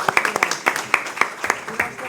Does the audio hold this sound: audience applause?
yes